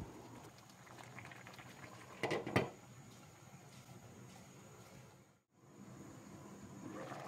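Squash stew with crab simmers in coconut cream, a faint, steady bubbling hiss with a brief clatter of stirring early on and a short drop to near silence partway through.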